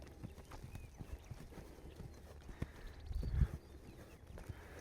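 Rhythmic hoof clip-clop of a horse loping nearby, with a louder thud of hooves partway through and some faint background noise.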